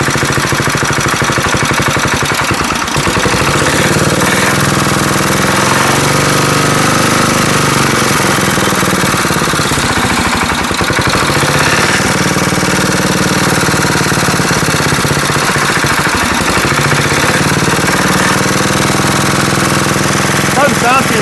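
A small old Wisconsin engine, once abandoned, runs steadily and loudly nearby with a rough, knocking, hammering beat, and its pitch swells now and then as it revs.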